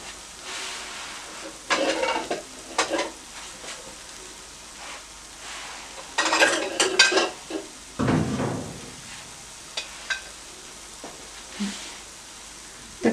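An eggless omelette fries in a pan over high heat, giving soft sizzling and scattered bursts of spatter and scraping that come and go, with a louder crackling stretch midway and a quieter hiss in between.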